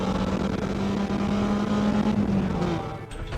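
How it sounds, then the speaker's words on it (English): A cheap track car screams along a straightaway on the rev limiter, its engine a loud, sustained high drone held near one pitch that fades slightly near the end. "I'm riding your on limiter all the way down that straightaway"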